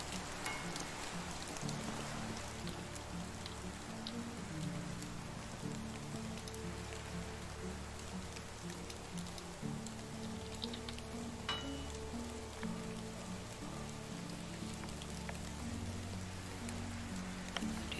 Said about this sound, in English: And that rain is like really loud today.